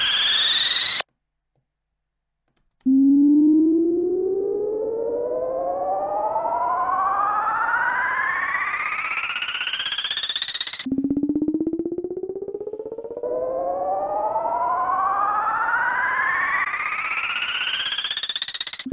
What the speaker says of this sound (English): This is another riser, so let's listen to that one.